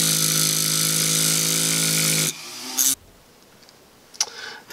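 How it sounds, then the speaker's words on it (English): A separating disc on a small rotary tool cuts through a piece of old hacksaw blade. It gives a loud, steady high-pitched whine for about two seconds, then stops, and a few brief faint clicks and scrapes follow. "I'm going to cut about a 2-inch piece of old hacksaw blade using a separating disc"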